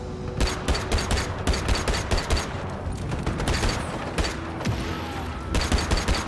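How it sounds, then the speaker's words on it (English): Rapid bursts of gunfire aimed at vehicle tires in the action game Just Cause 3, dense crackling volleys fired almost continuously with brief pauses, loud and close, with faint booms beneath. "It's cool that you can shoot the tires."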